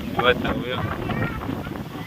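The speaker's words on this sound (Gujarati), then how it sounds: "ફૂલ પવન ચાલુ થઈ ગયો" Strong morning wind gusts across the microphone in a village near Botad in rainy weather, with buffeting rumbles, while a person talks over it.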